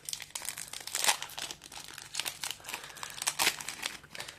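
Crinkly plastic wrapper of a small Disney 100 trading card booster pack tears open in a series of close, sharp crackles and rips, quiet and alone.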